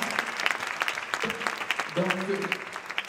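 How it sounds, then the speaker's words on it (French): Steady applause from a group of people at an award event, crisp claps continuing throughout while a voice talks briefly over them. "Je crois qu'on peut vraiment l'applaudir."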